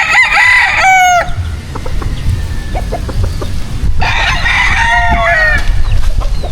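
A white kelso rooster on a farm crows loudly and close, two long cock-a-doodle-doo calls separated by quieter clucking and farmyard background.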